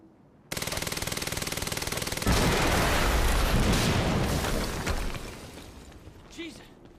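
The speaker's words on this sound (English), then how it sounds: "we just heard an explosion near the harvesting perimeter" Rapid machine-gun fire rattles close and loud, then a heavy explosion booms and rumbles away over several seconds during a firefight in the video game Quantum Break.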